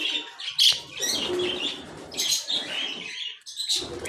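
Pet birds, including lutino and white birds kept in an aviary, chirp and tweet close by in overlapping bursts, fairly loud, with short pauses between flurries of calls.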